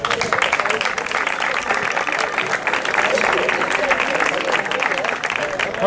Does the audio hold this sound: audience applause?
yes